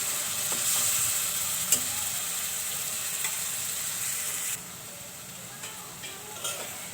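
Spice paste sautés in hot oil for a taro stolon dish, a close, steady sizzling hiss punctuated by occasional utensil clicks, dropping somewhat quieter partway through.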